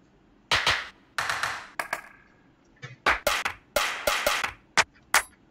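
A clap sample for a Just Blaze-style hip-hop beat built on reggae samples in a home studio fires as sharp, dry, isolated claps in uneven bursts, with no voices.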